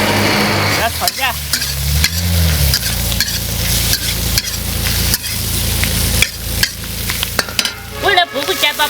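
Loud, close sizzling and scraping as cured pork and chili peppers are stir-fried in a wok, with repeated sharp spatula clanks and tossing throughout.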